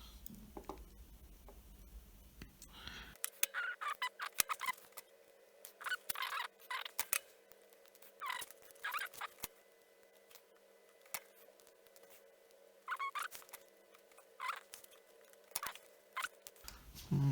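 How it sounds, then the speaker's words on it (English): Excess LED leads are cut after soldering: small, sharp snips and clicks come in irregular clusters over a steady low electrical hum, close and faint. "I can snip the excess."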